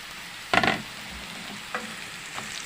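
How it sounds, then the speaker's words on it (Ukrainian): Carrots tossed into a frying pan while making zucchini caviar give one short clattering splash and sizzle. Two faint taps follow on a quiet background. "Так, кидаємо моркву."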